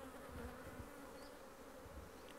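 Honey bees hum steadily and softly at an open hive in a spring family apiary, a continuous even drone with a faint passing buzz, no talking.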